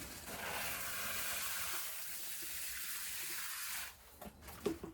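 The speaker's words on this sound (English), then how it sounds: "I gotta water all these." Water running steadily while garden plants are watered in spring, a continuous hiss that stops abruptly toward the end, followed by a few soft clatters.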